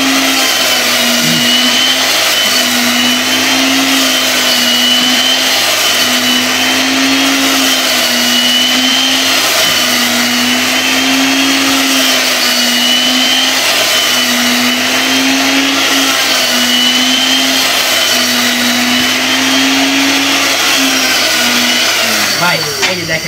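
A stainless steel electric meat grinder minces a whole chicken with a loud, steady motor whine that holds for over twenty seconds, with a slight wavering in pitch as the load changes.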